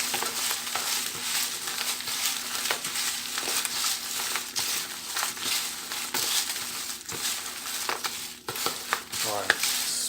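Hands mix a heap of dry potpourri ingredients, including crisp maple tree leaves, for a gothic potpourri: a close, steady rustling crunch with scattered sharp crackles and crinkles throughout, no voices.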